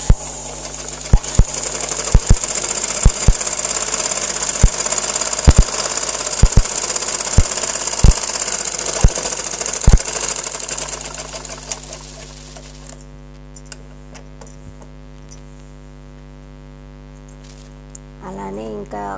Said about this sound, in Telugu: సైడ్ కుట్లు అయితే వేసేస్తున్నా.